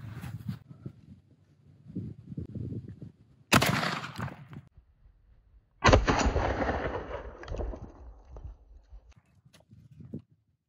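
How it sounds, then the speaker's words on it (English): A shotgun fired at glitter set up as a target outdoors: a sudden loud blast with a long decaying rumble, followed by a second booming shot a couple of seconds later, with quieter handling noises around them. "we're shooting a shotgun"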